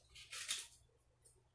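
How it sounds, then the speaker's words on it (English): Scissors snipping through paper while cutting out craft pieces, a faint brief crisp cut near the start followed by a softer snip, quiet and close with no speech. "So then just cut these out."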